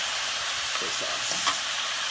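Soy sauce hits a hot, sizzling pan of food topped with sesame seeds, giving a steady, even frying hiss throughout with faint vocal traces in the middle.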